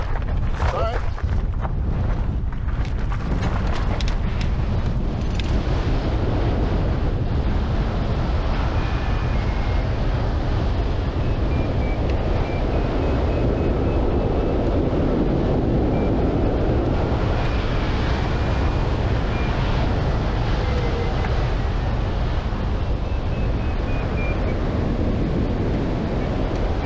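Strong wind buffets the microphone of an airborne hang glider with a constant roar, and a few sharp knocks come early on.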